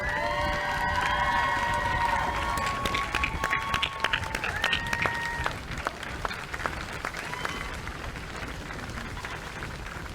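Graduates at a spring university commencement ceremony in Dickinson, North Dakota applaud their families, a sustained wash of clapping from a large crowd with scattered cheers and whistles over distant murmuring.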